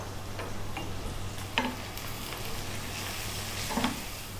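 Ginger, garlic and spices frying in a pan for egg curry, a steady soft sizzle throughout with a couple of light utensil clicks, no voices.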